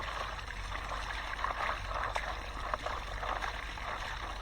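Water running steadily through a gold prospecting setup after a flood, a continuous rushing, splashing flow with light trickles on top, close by and unbroken, no voices.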